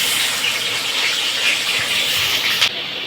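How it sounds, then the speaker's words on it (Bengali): Crabs fry in hot mustard oil in a pan, giving a loud, steady sizzle and hiss that continues throughout, with a faint clatter near the end and no voices. "তেল গরম হয়ে গেছে, এবার কাঁকড়াগুলো ভেজে নেব।"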